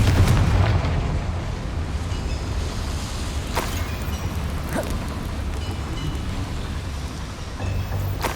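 The Confringo fire spell in Hogwarts Legacy goes off as a dull boom inside a complex boiler-filled area, followed by a low rumbling bed with a few sharp cracks and no talking.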